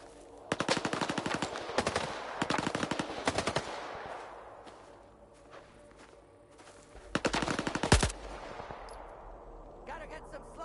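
Bursts of rapid automatic gunfire in the video game Stalker 2, two long rattling volleys, a pause, then another burst, loud and close, with footsteps and a faint voice between shots.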